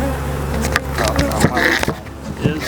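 Honeybees buzz in a loud, steady drone inside a beehive during an inspection, close and continuous, with a few brief clicks and shifts in the hum.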